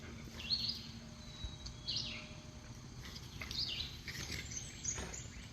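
Backyard feeder birds calling in the morning, a few thin, high chirps spaced out over a quiet hiss of outdoor ambience.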